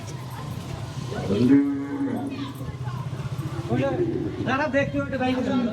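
Cattle at a busy Eid cattle market low, drawn-out moos from cows rising over constant crowd chatter and nearby voices, two distinct calls in the span.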